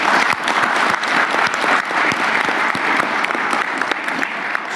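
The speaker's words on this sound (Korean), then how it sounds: "우리 격려의 박수 한번 부탁드릴까요?" An audience at a Korean presidential cabinet meeting bursts into sustained applause, a dense, even clatter of many hands clapping. It holds steady for several seconds and eases slightly toward the end, with no talking.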